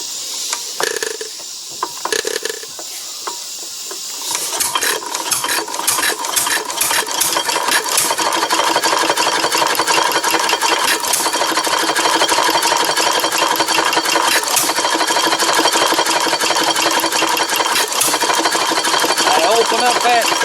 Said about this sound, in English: Engine should start.